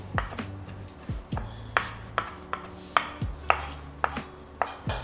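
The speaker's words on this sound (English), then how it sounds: "I wanna chop up some parsley for a beautiful garnish to go on top of our bowl." Parsley being chopped with a knife on a cutting board: a steady run of sharp, close taps roughly every half second, with no voices.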